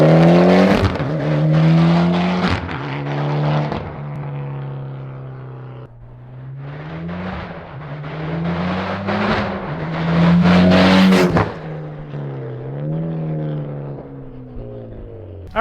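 A Mitsubishi Evo X fitted with a Tomei titanium exhaust revs hard and roars past, with rising and falling engine notes across several gear pulls that swell loudly as it nears and fade briefly between bursts, with no voices.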